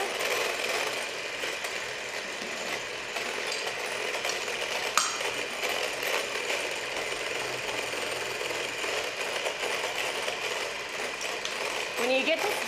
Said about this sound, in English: When you get to stiff peaks and the egg whites are nice and glossy